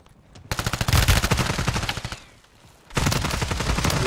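Rapid automatic gunfire in Call of Duty Warzone near the top of the Coliseum, two loud dense bursts of rattling shots with a short lull between them.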